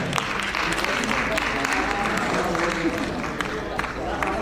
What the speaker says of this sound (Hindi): एक बार तालियों के साथ अभिनंदन